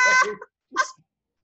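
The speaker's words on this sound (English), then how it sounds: "That was the dog, by the" A dog gives two short barks close by, the first a bit longer, separated by a brief pause.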